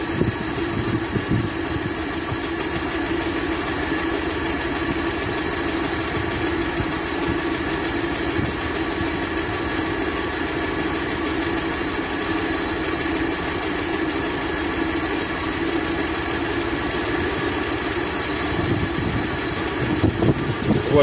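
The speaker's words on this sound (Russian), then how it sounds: "Вот, слышите, поднялись обороты назад." The carburetor engine of a Gazelle van fitted with LPG equipment idles steadily and loudly up close, a continuous even drone with no clear rise in revs.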